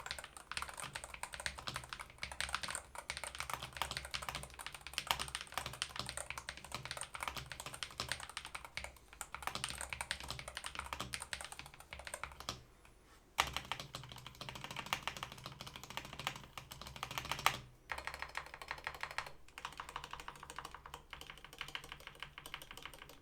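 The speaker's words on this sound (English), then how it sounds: "Here is a quick typing test so you can hear how the keyboard sounds." Steady, rapid clacking of keys on a Corsair Hall Effect mechanical gaming keyboard, continuous typing with brief pauses, close and clear with no voices.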